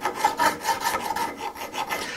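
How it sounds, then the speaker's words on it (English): A metal file scrapes corrosion off the steel tang of a woodcarving tool in rapid back-and-forth strokes, a steady rhythmic rasping close up with no talk. "You can use a rasp, or a file rather, to get this off."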